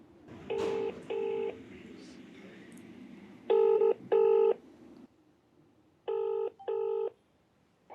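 A telephone call rings out as three clear pairs of electronic ringback tones, each pair two short, evenly spaced bursts with pauses between, over a faint background murmur.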